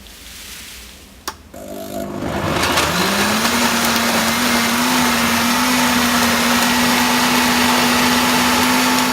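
A blender whirs steadily as it purees a mint smoothie, starting after a brief clunk and then holding a loud, even motor whine to the end.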